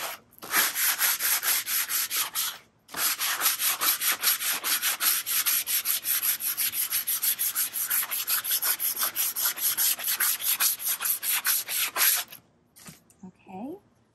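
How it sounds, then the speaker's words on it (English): Sandpaper is rubbed by hand over the top of a wooden piece in quick, even back-and-forth strokes, close and loud, with one brief pause early on and quiet handling at the end. "And then I'm going to lightly sand the top."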